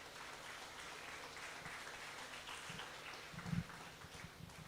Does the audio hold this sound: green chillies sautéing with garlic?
no